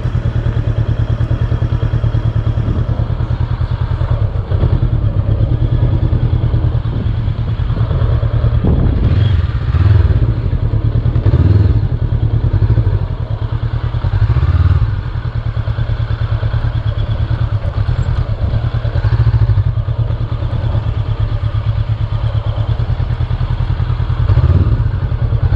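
Honda Hornet 500 motorcycle on a test ride, with a loud, steady engine drone and low rumble that holds throughout, plus occasional thumps and surges from the ride.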